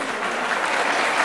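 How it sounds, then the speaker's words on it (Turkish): A crowd gives steady, dense applause for the groom at a Turkish wedding in 2009, continuous clapping throughout with no talk over it. "Damat Bey için kuvvetli bir alkış"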